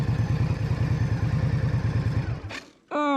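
An Indian Scout Bobber motorcycle idles low with an even, loping throb of firing pulses, loud and close, until it cuts out near the end and a short rising tone sounds.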